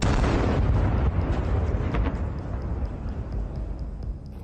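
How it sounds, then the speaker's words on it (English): Tank ammunition cooking off inside a destroyed tank's hull, a dense continuous roar of blasts and crackling pops that stays loud throughout, with sharper bursts standing out from the rumble. "Sometimes the explosion of ammunition looks like a fireworks display."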